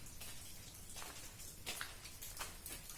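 Rain falling on a hilly road in Arunachal Pradesh along the Aalo–Pasighat route, a steady close hiss of drops with scattered louder splashes and patters, no talk.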